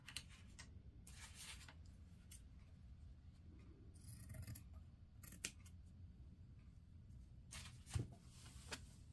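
Scissors trim excess fabric for a T-shirt quilt in a series of crisp, close snips and rustles, faint overall, with irregular cuts and a sharper snap near the end; no voices.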